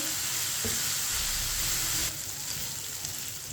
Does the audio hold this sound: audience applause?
no